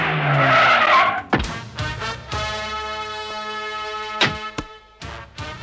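A car skids to a stop with a long tire squeal that rises and holds over the rumble of the engine, followed by sharp thuds and clatter as it halts, loud and close.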